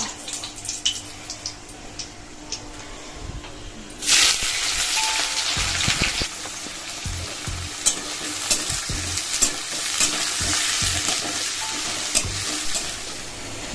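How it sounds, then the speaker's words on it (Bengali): Whole garam masala, a dry red chilli and bay leaf hit hot oil and burst into a loud, steady sizzle that carries on, with scattered stirring clinks and scrapes throughout. "এখানে দেখো তেলটা কিন্তু গরম হয়ে গেছে আর এখানে দিয়ে দিলাম গোটা গরম মশলা আর হচ্ছে একটা শুকনো লঙ্কা তেজপাতা"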